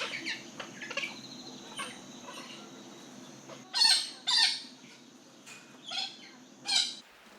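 Parrots in an indoor wildlife enclosure give several sharp, loud squawks and calls, starting as scattered chirps, then bursting out in distinct cries over a low steady hum.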